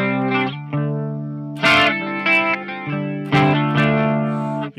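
An electric guitar plays through an Amplified Nation Steel String Singer amp on its rock setting, with short, ringing melodic phrases and chord stabs. The notes sustain clearly and decay with a light wash of reverb.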